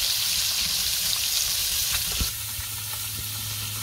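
Fish frying in oil in a pan, a steady loud sizzle throughout with a faint stir or clink partway through.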